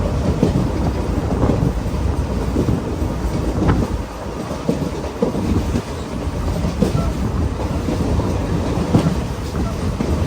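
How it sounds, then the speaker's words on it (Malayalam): Express train from Guruvayur to Thrissur running at speed through open farmland in Kerala, a steady loud rumble with rattling wagons and wheel clatter throughout, heard close from on board. "ട്രെയിൻ അത്യാവശ്യത്തിന് നല്ല സ്പീഡിൽ തന്നെ പോകുന്നുണ്ട്"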